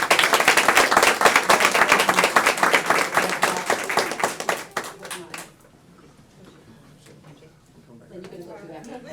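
An audience at a board of education meeting applauds loudly for about five seconds, the clapping thinning and fading out before faint voices and quiet room sound take over.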